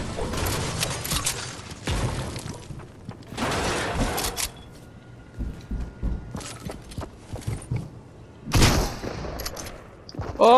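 Video game gunfire crackles in several separate bursts, loud and near, with quieter pops and rattles in the gaps between volleys.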